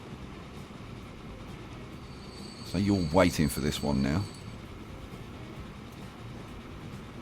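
A new train rolls past in the rail-management game Transport Fever, a low, steady rumble under the whole stretch while someone talks briefly in the middle.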